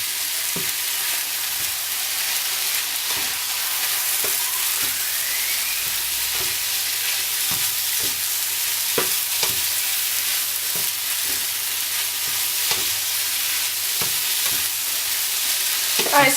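Baby spinach sizzles and wilts in a frying pan during omelette cooking, a steady close hiss of frying broken by regular clicks and scrapes of stirring, with no talking.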